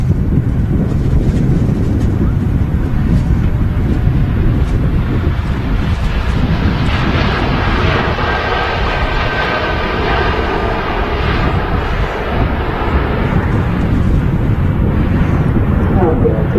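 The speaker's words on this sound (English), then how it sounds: "TUI Dreamliner on the roll now." TUI Boeing Dreamliner jet rolling for takeoff at windy Manchester Airport, a steady broad engine roar with wind buffeting the microphone, continuous and moderately loud from a distance.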